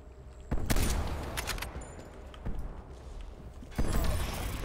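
Sharp gunshots crack in Call of Duty Black Ops Cold War during a 3v3 Gunfight on the Mansion map, a few separated bursts with sniper fire over background game noise, no speech.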